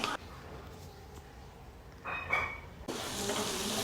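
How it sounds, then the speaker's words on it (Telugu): Red chili powder fries in hot oil, a faint hiss that swells into louder bursts of sizzling over the last couple of seconds, heard alone without speech. "మనము కారాన్ని ఆయిల్లోనే ఉడికిద్దాము"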